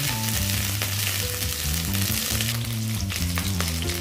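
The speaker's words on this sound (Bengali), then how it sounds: "এটা আমি ভালো করে ভেজে নিচ্ছি" Chopped ginger fries in oil with cumin and asafoetida for a Bengali-style coconut and chana dal, a steady soft sizzle running beneath louder melodic background music.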